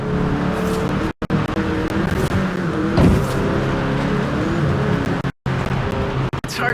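A car engine drones loudly and continuously during a street race in Mexico in Forza Horizon 5, with the pitch shifting as it accelerates, broken by two brief dropouts.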